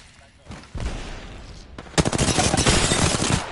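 Automatic gunfire in an Apex Legends firefight cracks out in dense rapid bursts, first moderate then louder and sustained, close and continuous.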